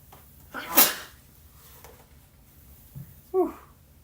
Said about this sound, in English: That was a devious sneeze right there.